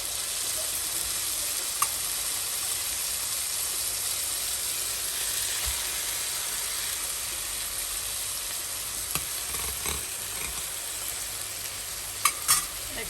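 Four pieces of fish fillet sizzle steadily in a frying pan, a continuous bright crackling hiss with a few sharp pops and stirring clicks near the end, no talking.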